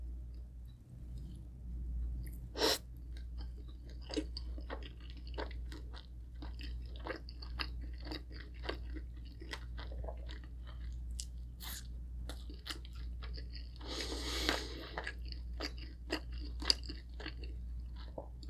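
Someone eats Filipino roasted pork belly and egg, with soft wet chewing and occasional crunchy bites close to the mic, repeating steadily under a low background hum with no talking.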